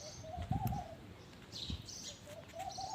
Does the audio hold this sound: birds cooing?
yes